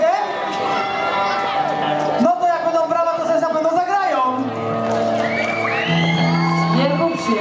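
Festival crowd at an outdoor Stacja Niebo concert in Szynwałd shouting, whooping and cheering loudly and continuously, with music tones ringing underneath and a voice carrying over the noise.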